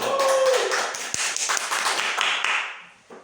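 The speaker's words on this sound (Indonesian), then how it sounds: "Tepuk tangan dulu." A short burst of clapping from a small group, dense and close, tapering off after about three seconds.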